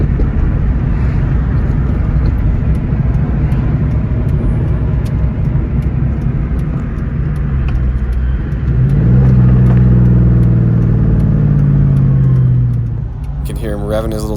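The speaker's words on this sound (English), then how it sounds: "Hear him revving his little turbo car with his blow-off valve" A small turbocharged car revs its engine behind a driver on the road, its blow-off valve venting between pulls; a steady low engine and road rumble swells into a louder, rising rev near the end.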